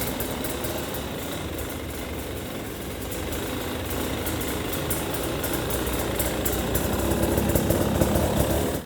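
A 2020 KTM 300 XC TPI two-stroke dirt bike engine runs close by in a steady, raspy idle that grows slightly louder toward the end before cutting off abruptly.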